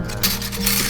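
Eggs being stirred in a cooking pan with a steady scraping, rubbing rasp of utensil against metal, close and continuous, with no talk.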